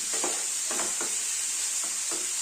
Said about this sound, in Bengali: তো এইভাবে আমি কিছুক্ষণ ভেজে নেব সবজিগুলোর সাথে চিকেনগুলোকে।